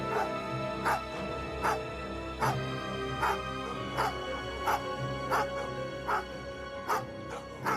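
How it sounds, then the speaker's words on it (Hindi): Dogs whimpering and yipping as a horror-story sound effect: a steady, repeating series of short whines and yelps about once a second, sounding close and mid-loud over a continuous tonal background. "बिजुका को जमीन पर गिरा पड़ा देखकर कुत्ते उसकी ओर भागे।"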